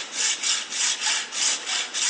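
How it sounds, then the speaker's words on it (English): A saw cutting a plastic piece off a stainless steel apple coring tool: close, loud back-and-forth strokes in an even rhythm, about seven passes over two seconds. "After cutting off this plastic piece, you're left with a nice large stainless steel tube."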